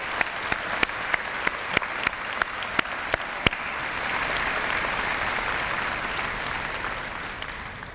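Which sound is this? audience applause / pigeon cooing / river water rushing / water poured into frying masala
audience applause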